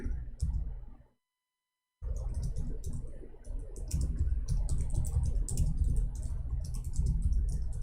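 A computer keyboard clatters with quick, close, irregular keystrokes, briefly dropping out to silence before the steady typing resumes, with no speech.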